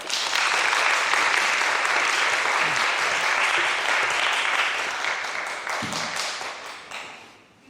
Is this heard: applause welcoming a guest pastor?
yes